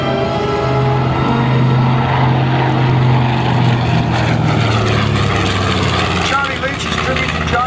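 A propeller plane drones loudly overhead at an air show, its engine roar steady and close throughout as it passes.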